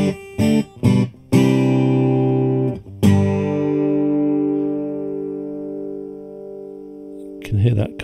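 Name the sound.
acoustic guitar through T-Rex Soulmate compressor pedal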